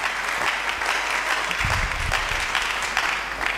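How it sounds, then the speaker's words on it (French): A church congregation claps and cheers loudly during a sermon, dense close applause with whoops filling the space steadily from start to finish. "Est-ce que nous pouvons acclamer très fort?"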